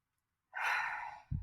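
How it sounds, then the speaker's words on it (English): A single slow, deep breath drawn in softly and sustained for about a second, close and quiet, followed by a brief low breathy puff. "take a nice slow deep breath"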